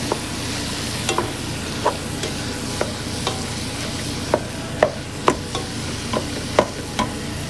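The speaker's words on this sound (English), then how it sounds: "And I'll cook the meat until it's no longer pink before I add the sauce." Meat fries in a pan with a steady sizzle while a utensil scrapes and taps against the pan in irregular strokes. The sounds are close and moderately loud, with no talking.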